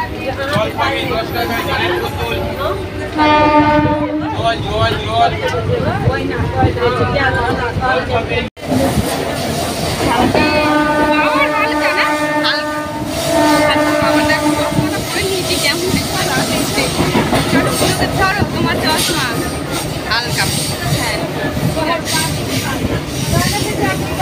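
A train pulls into Howrah Junction, its steady rumble and clatter filling the whole stretch, with long tonal horn-like blasts near the start and again midway, under a constant babble of nearby voices.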